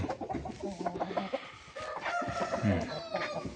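A 5.5-kilogram rooster clucks and squawks in short, choppy bursts close by, with some other fowl calls mixed in.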